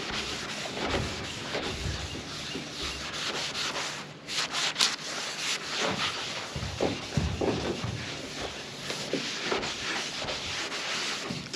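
Magic eraser sponges scrub back and forth over grimy, rust-spotted paint on a long-neglected Volkswagen electric race car, a steady close rubbing and sanding rasp that runs throughout with a brief pause partway.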